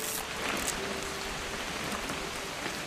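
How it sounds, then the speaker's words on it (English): Steady rain falling in the video game What Remains of Edith Finch, a dense even hiss of drops on surfaces, constant and moderately loud with no talk. "It's gonna rain the whole weekend, isn't it?"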